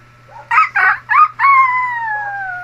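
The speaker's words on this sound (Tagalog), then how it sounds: "What is the sound of chicken?" A rooster crows loudly and close by: three short choppy bursts are followed by one long, drawn-out call that slowly falls and fades, over a faint low hum.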